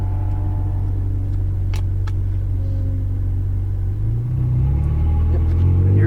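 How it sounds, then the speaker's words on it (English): A Ferrari 458 Italia pulling away onto a race track at Exotics Racing Las Vegas, heard from inside as a loud, steady engine drone with a deep rumble that climbs in pitch as it accelerates. "As you enter the track, you'll upshift into second gear. Just a good consistent acceleration,"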